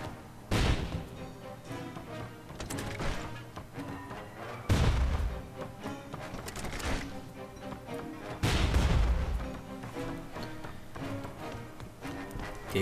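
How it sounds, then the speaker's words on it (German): Explosions in a video game, three heavy booming impacts spaced several seconds apart, each followed by a decaying rumble over continuous game sound effects and music. "Explosion hätte man vielleicht ein bisschen spektakulärer gestalten können."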